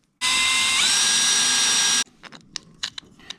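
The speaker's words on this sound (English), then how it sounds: "we've just got to drill a hole through here to receive this bolt" A power drill whines loudly and steadily for about two seconds, drilling a bolt hole in a Viking Profish 400 kayak, its pitch rising slightly as it bites, then stops, leaving light clicks and handling noises.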